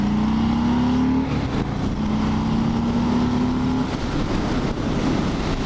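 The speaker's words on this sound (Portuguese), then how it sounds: "Deixa eu sair forte aqui." A 2020 Harley-Davidson Fat Bob motorcycle accelerating hard, its engine roaring loud and steady with rising pitch through gear changes, heard from the rider's position amid wind noise.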